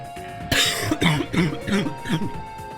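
A burst of several harsh coughs in quick succession, close and loud, followed by a few throat-clearing hacks.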